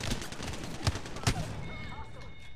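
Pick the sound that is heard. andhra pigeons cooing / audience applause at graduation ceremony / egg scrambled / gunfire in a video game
gunfire in a video game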